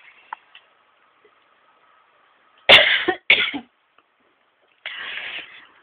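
A person coughs in short sharp bursts, two close together and then a longer one a moment later, loud and near against a quiet room with faint ticking.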